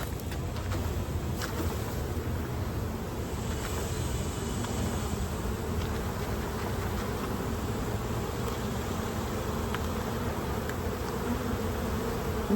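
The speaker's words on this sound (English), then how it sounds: "I'm gonna shake these bees." A dense, steady buzzing of many bees being shaken into a box fills the air, loud and close, with a low rumble underneath throughout.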